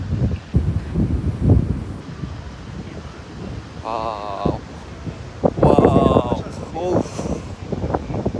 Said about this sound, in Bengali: অসাধারণ বাতাস